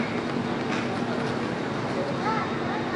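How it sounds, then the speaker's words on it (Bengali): A train arriving at a Swiss station, bound for Interlaken Ost, rumbles steadily nearby with a constant low drone and faint squeals, amid station ambience and distant voices. "এই যে ট্রেনটা আসতেছে আমরা এই ট্রেনে উঠবো"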